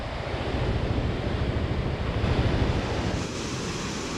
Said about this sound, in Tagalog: Grabe, ang lakas ng uh, agos ng tubig.